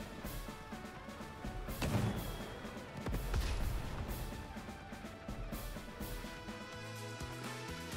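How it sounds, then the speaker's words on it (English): Artillery fire in Advance Wars Re-Boot Camp, heavy booming impacts landing under a continuous game music score, with a couple of stronger thuds standing out amid the steady bed of music. "we're just going to drop some artillery right on these guys' head"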